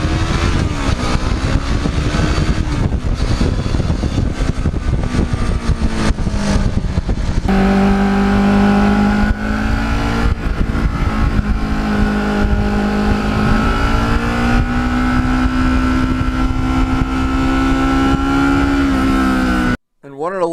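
Black and gold Kawasaki Ninja motorcycle accelerating on an open road, a loud close engine note rising and holding at high revs with a shifting whine before cutting off abruptly near the end.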